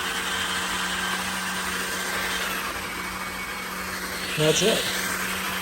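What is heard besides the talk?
Levoit LVAC 200 cordless stick vacuum running on turbo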